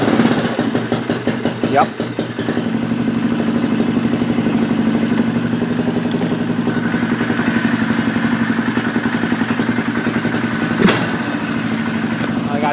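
Polaris Sportsman 500 ATV engine idling steadily with a low, even mechanical rumble and light clatter throughout, slightly rough while still cold after carburetor rejetting, with a brief spoken word near the start.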